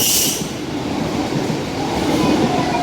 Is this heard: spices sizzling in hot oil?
no